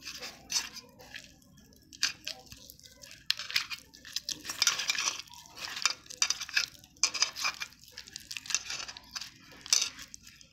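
Boiled potato being mixed into spinach in a bowl, for spinach bori, with repeated close scraping, squishing and clinking of utensil against the bowl in an uneven rhythm, no talking.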